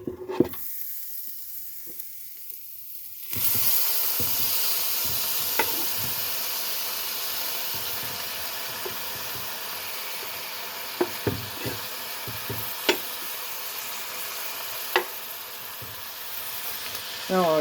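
Tomato, spinach and shrimp sizzle in a small skillet on medium heat, a dense steady frying hiss that begins abruptly after a quiet start, with occasional sharp knocks and stirring clicks scattered throughout.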